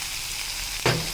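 Chopped onion sautéing in a pan, a soft continuous sizzle broken by one brief louder burst of crackle near the end, heard close up.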